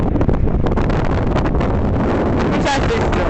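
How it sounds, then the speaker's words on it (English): Heavy wind pounds the microphone on a sandy, blustery day, a loud steady rumbling roar with faint voice traces buried beneath it. "So windy."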